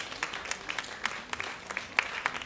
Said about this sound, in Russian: Аплодисменты Лане.